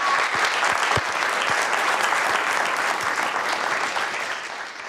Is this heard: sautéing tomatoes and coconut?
no